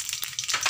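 Fenugreek seeds dropped into hot oil in a kadhai over low gas, alongside cumin and mustard seeds, give a short, close, crackling sizzle with a few sharp pops, heard alone.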